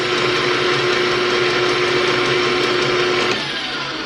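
An electric mixer whips a sugar mixture, giving a loud, steady motor whir with a constant tone that drops slightly in pitch and volume near the end.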